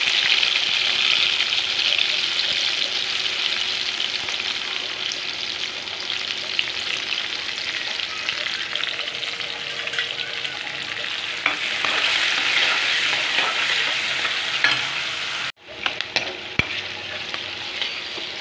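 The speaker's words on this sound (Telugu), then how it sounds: "ఉల్లిపాయలు వేగిపోయినాయి." Onions sizzle steadily in an oiled pan for a tomato potato curry, a constant close crackling hiss that runs nearly twenty seconds with the occasional stir, then briefly cuts out near the end.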